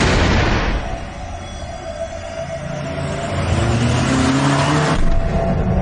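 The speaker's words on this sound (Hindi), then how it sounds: "एक्सीडेंट की आवाज से तात्सुया भी डर जाता है" A car strikes a woman on a road in a Japanese horror film: a loud, rough burst of noise gives way to a steady engine drone with rising and falling tones, ending in another swell of noise.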